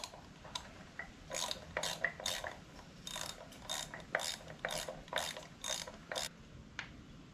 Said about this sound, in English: I need to hold that in position while I tighten the bolt.